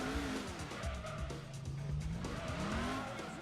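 A Mustang snapping into oversteer in Gran Turismo 2, with sustained tire squeal and wavering skid tones over a steady engine drone, loud and close throughout, with no talk.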